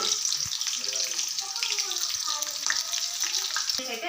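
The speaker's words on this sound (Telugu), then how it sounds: "ఇప్పుడైతే ఆయిల్ వేడెక్కాక ఆనియన్స్ అయితే వేసుకోవాలి" Onions frying in hot oil for a garlic-chili chicken fry, giving a steady, continuous sizzle and crackle that stays loud and even throughout, with faint background sounds and no clear talk.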